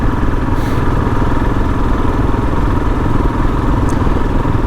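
Royal Enfield Himalayan motorcycle engine running outdoors at dusk, a loud, steady mechanical drone with constant rumble and no change in pace, heard alone without speech.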